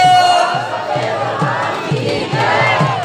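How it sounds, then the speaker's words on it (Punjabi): A crowd gathered for a devotional Baba ji chowki and bhandara shouts a Sikh jaikara, loud massed voices rising together in repeated rhythmic bursts with a steady background din. "ਆਪਾਂ ਜੈਕਾਰੇ ਬੁਲਣੀਆਂ ਆ ਜੈਕਾਰਾ ਪਾਉਣਾ ਹਰੀ ਬਾਬਾ ਜੀ ਦਾ"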